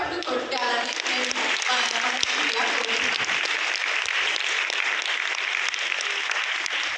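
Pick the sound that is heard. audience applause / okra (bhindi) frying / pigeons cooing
audience applause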